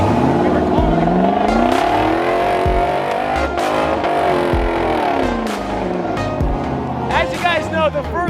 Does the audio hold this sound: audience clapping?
no